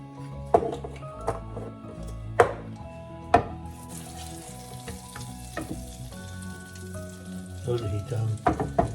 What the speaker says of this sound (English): We'll melt some butter.